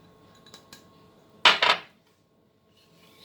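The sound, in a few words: spoon stirring melting dark chocolate pudding in pot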